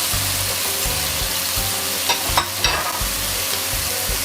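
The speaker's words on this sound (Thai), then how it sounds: "ผัดให้เข้ากันนะคะ" Tofu and holy basil stir-fried in a pan give a steady close sizzle, with a rhythmic scraping of a spatula stirring through the mix and a couple of brief clatters near the middle.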